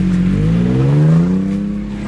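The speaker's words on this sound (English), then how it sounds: "Another Tacoma." A Toyota Tacoma truck passes on a 4x4 trail, its engine droning loud and close and the pitch sliding downward as it goes by, with no talk over it.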